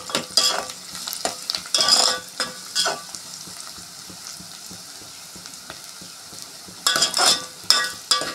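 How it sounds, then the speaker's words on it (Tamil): Onion and garlic sizzle in a pan for a fish curry, with repeated scraping stirs of a spatula coming in bursts over a steady soft frying hiss. "வெங்காயம் நல்லா வதங்கி வந்திருக்கு."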